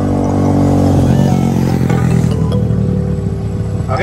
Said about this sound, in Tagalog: May mga motor eh.